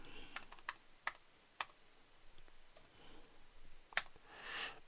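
A computer keyboard clicks under quick, irregular keystrokes as a password is typed, a few light taps in short bursts, close and quiet with no talking.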